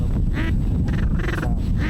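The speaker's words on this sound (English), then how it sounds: "You never have enough quacking in the spread." Ducks quack loudly and repeatedly at close range during waterfowl hunting at Devils Lake, North Dakota, with several rhythmic calls over a steady windy, rumbling background.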